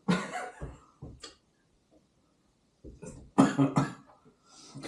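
A person gives a few awkward coughs and throat-clearing sounds in short bursts, close and fairly loud, with a quiet gap between them.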